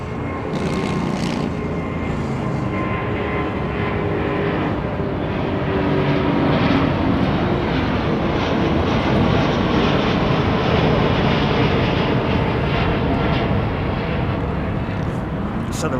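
Jet airliner landing at Heathrow Airport, heard from a garden: a steady, loud broadband engine roar that swells slightly midway and fills the whole stretch, with no voices over it.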